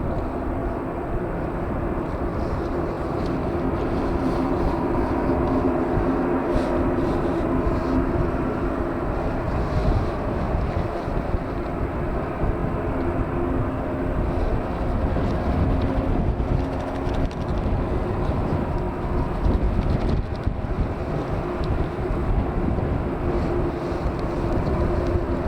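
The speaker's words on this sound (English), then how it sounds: "On its way out is an ATR 72-600, the propellered aircraft" An Aer Lingus Regional ATR 72-600 turboprop takes off at Manchester Airport, a steady loud propeller and engine roar with a droning hum that holds for the whole stretch, blended with wind noise.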